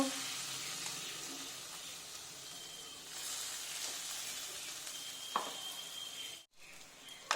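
Lentil dumplings (bori) fry in hot oil in a home kitchen before poppy seeds are added, giving a faint, steady sizzle with occasional stirring clinks and a brief sharp knock near the end.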